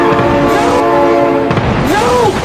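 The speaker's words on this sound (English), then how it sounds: "Oh my god, train!" Horn of an approaching train in the BeamNG driving game, a loud sustained multi-tone blast with steady harmonics that then bends and wavers near the end, with a voice briefly exclaiming over it.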